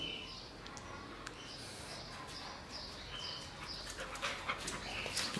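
A husky pants softly and steadily close by, a faint rhythmic breathing over low background noise, with a few brief whimpers or bird-like chirps toward the end.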